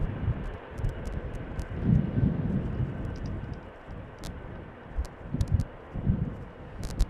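A fixed-wing airliner rumbles in for landing at Amsterdam Schiphol on a windy day, a low continuous roar swelling and fading under heavy wind buffeting, with faint high clicks in the background.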